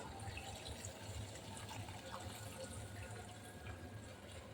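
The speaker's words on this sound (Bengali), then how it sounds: "পানি দিব" Water pours steadily into a pan of simmering rui fish curry with pui shak (Malabar spinach) stems, a continuous close rushing splash that holds even for several seconds.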